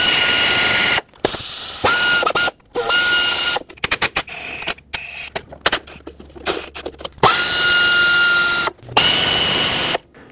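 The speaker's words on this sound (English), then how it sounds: "now use an 8mm socket. Remove all the bolts that go around this entire valve cover so we can pull it off" An air ratchet driving an 8mm socket to remove the valve cover bolts on a 2011-2016 Ford F-350 with a 6.2L V8, loud repeated bursts of hissing, whirring tool noise broken by short pauses.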